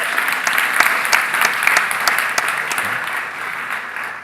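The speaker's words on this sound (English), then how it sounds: "So give yourselves a big round of applause." An audience at a magic show claps together in sustained applause that eases slightly toward the end, with no clear talking over it.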